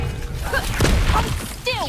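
Confringo explosive spell from Hogwarts Legacy firing in combat, with crashing, thudding impacts and a whooshing burst near the middle, layered with game effects and voices.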